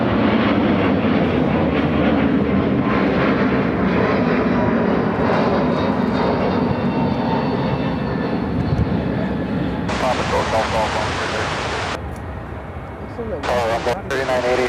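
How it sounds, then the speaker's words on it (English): An Emirates Boeing 777-300ER arriving at O'Hare from Dubai gives a loud, sustained jet roar that swells and slowly fades, with people talking over it and some wind noise late on. "235 coming in from Dubai on the 777-300ER."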